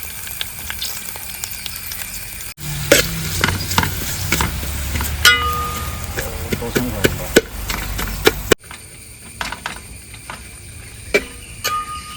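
Chopped onions hit a hot pan of softened garlic in a Kerala village kitchen, the sizzle surging suddenly and crackling on, punctuated by sharp clinks and scrapes of stirring before settling quieter.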